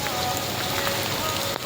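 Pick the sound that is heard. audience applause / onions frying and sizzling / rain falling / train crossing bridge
rain falling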